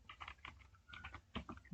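Quick, light keystrokes on a computer keyboard while a Linux password is entered, a rapid irregular patter of clicks lasting under two seconds, close and fairly quiet.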